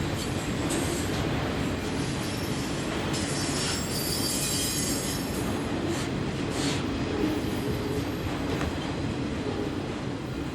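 A CSX freight train passes through Folkston, a continuous loud rumble of railcars with high wheel squeal and occasional clanks, close by and steady throughout with no voices.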